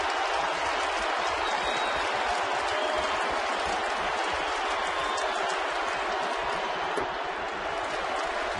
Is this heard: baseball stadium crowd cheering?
yes